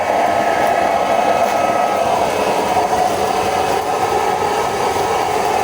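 A loud, continuous whooshing roar of a used-oil stove's burner flame turned up high, steady and breathy with no breaks, heard up close.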